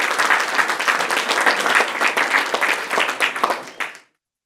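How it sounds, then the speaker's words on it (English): An audience at a HealthTech startup cohort showcase claps for presenters in a dense, sustained round of applause that holds steady for about four seconds and then cuts off abruptly. "All right, one more round of applause for Abe and Tigo-sans."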